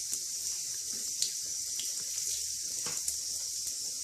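A shower running at a swimming school, with a steady hiss of spraying water and scattered splashes and drips. The sound stays fairly faint and even throughout, with no one talking.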